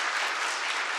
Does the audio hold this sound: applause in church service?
yes